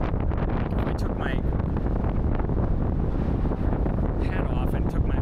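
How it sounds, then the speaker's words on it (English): Strong wind whips straight into the microphone in wind-tunnel conditions, making a loud, continuous buffeting rumble that swamps everything else. "My eyes are actually watering because the wind is whipping so hard into it."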